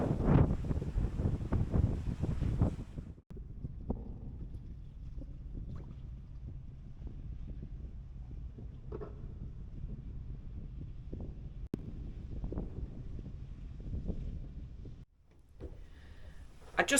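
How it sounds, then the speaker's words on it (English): Gusty storm wind buffets the microphone along a port promenade in A Coruña, a loud rumbling roar at first, then a steadier low blustery noise, with faint sounds in the background. "Still stormy in A Coruna."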